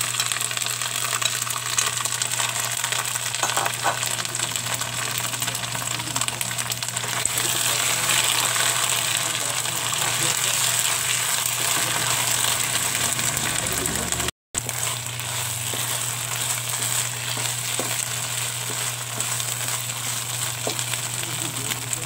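Shrimp paste (bagoong alamang) with vinegar sautés in a pan alongside pork, giving a steady, close frying sizzle that runs unbroken for the whole stretch apart from a momentary dropout.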